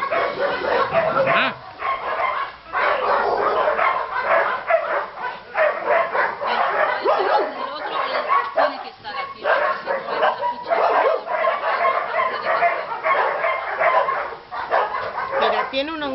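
Two small dogs yip and bark in short bursts close by, mixed with steady Spanish talking over them throughout.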